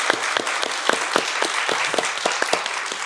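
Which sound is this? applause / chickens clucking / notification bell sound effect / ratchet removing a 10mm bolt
applause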